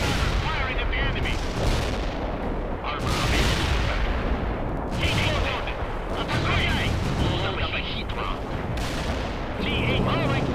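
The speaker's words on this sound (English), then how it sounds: "Firing at the enemy." Dense, continuous gunfire and heavy artillery booms from a World in Conflict battle, loud and close, with rapid overlapping shots and blasts rising and falling in waves across the whole stretch.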